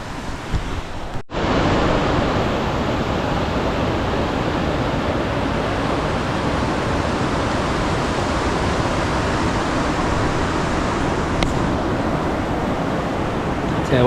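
A mountain river in South Canterbury rushes loud and steady at a crossing, a dense, unbroken roar close by, with a brief bump near the start and no talking.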